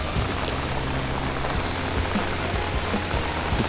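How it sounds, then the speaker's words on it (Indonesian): Light, steady rain patters continuously outdoors, not very heavy, with a low engine-like hum underneath and no talk. "Masih hujan juga tapi tidak begitu deras."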